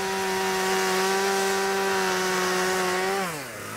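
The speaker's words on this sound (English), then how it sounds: "So we were chopping manually and using the chainsaws." A chainsaw cuts ice at the Barneo ice camp near the North Pole. The engine holds a loud, steady high-revving drone for about three seconds, then winds down in pitch near the end.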